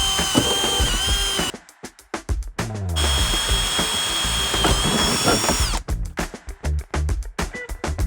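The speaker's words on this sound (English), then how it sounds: "We're going to rivet the bracket to the tunnel" Steel rivets being driven to fix a steel bracket to a snowmobile tunnel, loud close power-tool whirring in long sustained runs broken by short rapid bursts and brief gaps.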